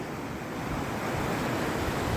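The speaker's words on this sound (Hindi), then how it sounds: "लहरों पे लहरें आ रही हैं समुंदर की।" Sea waves breaking on the beach at Daman, a dense, continuous roar of surf mixed with wind rumble, loud and close without pause.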